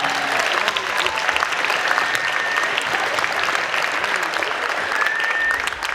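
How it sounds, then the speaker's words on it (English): Sustained applause from a school audience at a Black History Month program for a guest speaker, a loud, even crackle of many hands clapping throughout, with a few faint whoops. "Let's give Dr. Thomas another round of applause"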